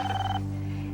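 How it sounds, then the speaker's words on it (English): A telephone rings once in a short, steady electronic burst that cuts off partway, leaving a low continuous hum underneath; no voices are heard. "Erika, answer the phone. I know you're there, damn it"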